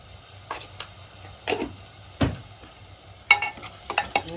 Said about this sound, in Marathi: सगळं परतून घेऊया